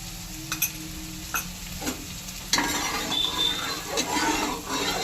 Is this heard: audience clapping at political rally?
no